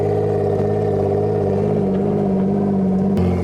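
A hot rod car fitted with a salvaged BMW rear differential pulls away during Hot Rod Drag Week, its engine droning steadily and close, with a shift in pitch near the end.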